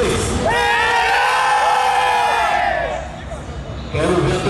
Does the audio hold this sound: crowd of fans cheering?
yes